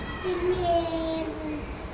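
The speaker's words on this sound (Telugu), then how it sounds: "పిల్లి ఏడుస్తుందా?" A cat gives a drawn-out, wavering meow, fairly close, over faint background hiss.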